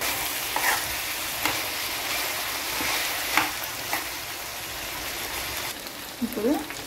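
Chicken fry for a Telangana-style dish sizzling in a pan as it is stirred, a steady close frying crackle with a few scraping clicks of the spoon and a louder scrape near the end, no talk.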